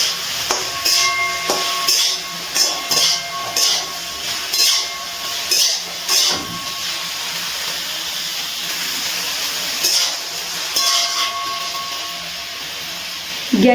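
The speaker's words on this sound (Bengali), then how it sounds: "খুব সামান্য একটু লবণ দিয়ে ব্রোকলিটা ভেজে নিচ্ছি।" Broccoli fries in a pan with a little salt over a low-to-medium gas flame, giving a steady sizzling hiss broken by short clinks and bursts of crackle, with no talking.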